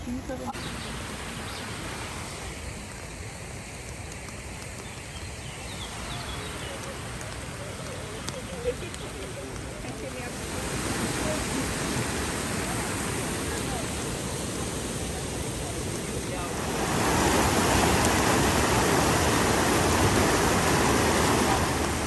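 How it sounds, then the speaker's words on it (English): Skradinski Buk, the Skradin waterfall in Croatia, roars as a steady broadband rush that swells louder in stages, heard from nearby as a continuous wash of falling water. "So ladies, once again, this is the waterfall that we talked about on the bus."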